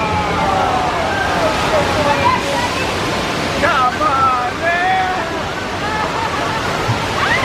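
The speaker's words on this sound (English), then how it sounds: "On the right, water, lots of it too." A special effect on the Universal Studios tour sends water rushing in a loud, continuous roar, with squeals and shouts from the riders mixed in.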